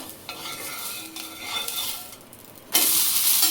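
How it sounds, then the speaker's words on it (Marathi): A ragi ghavan pancake cooking on a pan, a low sizzle with spatula scrapes and light metal clinks, then a sudden louder, brighter sizzle as it is flipped over near the end. "आता घावण कोरडं झालं आणि बाजूने काठ सुटू लागले की गॅसच्या तिथे मध्यम करा, थोडा वेळ थांबा, त्यानंतर हे पलटवून घ्या।"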